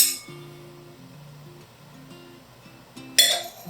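Wine glasses clink together in a toast during a California Cabernet Sauvignon tasting, one bright ringing chink near the end, preceded by quiet low tones and faint background sounds.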